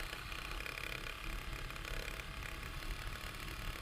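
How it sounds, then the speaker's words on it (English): Domestic sewing machine stitching free-motion loop-de-loop quilting in a quilt border, a steady fast mechanical whir and rapid needle clatter running continuously and fairly quiet throughout, with no talking. "I'm just going to do some loop-de-loop free motion quilting in the border area."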